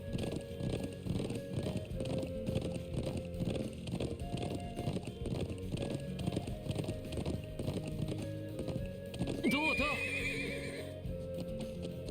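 Steady rhythmic hoofbeats clip-clop throughout in the video game Trails of Cold Steel, with a horse whinnying loudly near the end.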